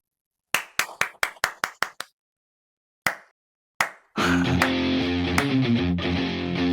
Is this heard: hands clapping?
yes